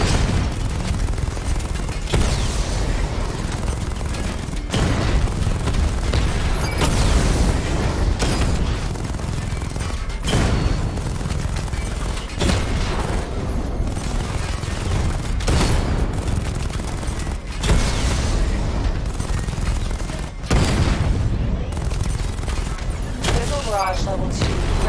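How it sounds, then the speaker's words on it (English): Batmobile secondary weapon barrage at level 2 firing in the video game Batman Arkham Knight, a loud sustained volley of repeated blasts and booms with mechanical clanks, dense and continuous throughout. "I need to power up the secondary weapon to level 2 before firing."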